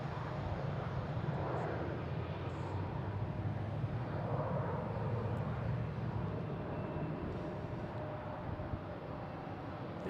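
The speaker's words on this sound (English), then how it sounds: "Our next coming in is United Airlines from Denver, 737 MAX 9." A United Airlines Boeing 737 MAX 9 arriving from Denver at Boston Logan airport gives a steady, broad jet roar that holds for about ten seconds at moderate distance, without talk.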